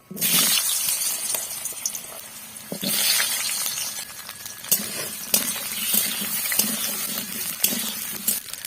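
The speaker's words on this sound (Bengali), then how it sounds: "এই যে আলুটা বুনিয়ে নিয়েছিলাম সেই আলুটাকে আমি এখানে ভেজে নেব" Boiled potatoes fry in oil in a wok, making a continuous close sizzle with occasional clinks and stirring knocks, and no one talks.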